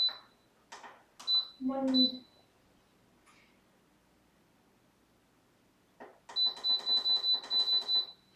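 An Instant Pot electric pressure cooker beeps as its timer is set: a few short beeps near the start, then after a quiet pause a quick run of about eight sharp, close beeps, with a voice briefly heard early on.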